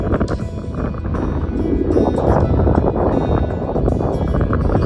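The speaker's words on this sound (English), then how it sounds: "You hear the wind." Wind blowing hard outdoors on a cold Wyoming roadside beside an RV, a loud steady rushing roar with gusty buffeting against the microphone, and no speech.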